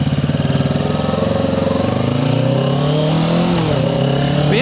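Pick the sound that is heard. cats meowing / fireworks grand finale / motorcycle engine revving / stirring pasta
motorcycle engine revving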